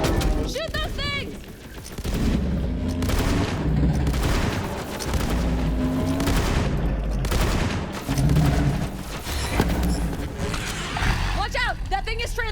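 Loud gunfire rattles through a Borderlands 3 boss fight in bursts and rapid volleys, with heavy booms and mechanical noise mixed in, while voices talk over the shooting.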